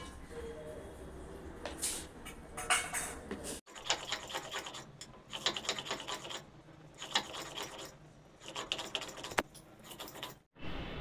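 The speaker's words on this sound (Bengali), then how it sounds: "এবার আমি সরষেটা বেটে নেব।" Mustard seeds ground on a stone shil-nora slab, with rough rhythmic rasping and scraping strokes in repeated bursts and short pauses between them, close by.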